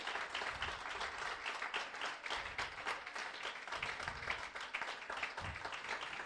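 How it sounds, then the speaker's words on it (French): Audience applause for the conductor Malou, a sustained roomful of clapping heard at a distance, fairly soft and textured with individual hand claps standing out in an uneven rhythm. "Un tonnerre d'applaudissements"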